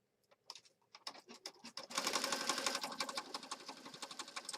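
A few scattered clicks and taps give way to a sewing machine stitching through a mixed-media piece, a close, fast, even rattle that keeps going to the end.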